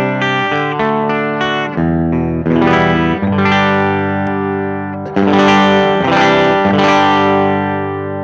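Electric guitar run through a Walrus Audio Messner low-gain overdrive pedal in open mode, giving a less compressed, lightly gritty tone; sustained chords and single notes ring out loudly with no talking.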